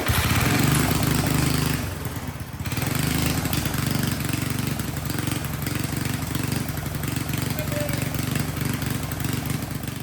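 A 7 horsepower Tecumseh engine on a 1973 Wheel Horse lawn tractor runs steadily at a loud, close idle with a rough, throbbing chug, dipping briefly before settling back to an even drone.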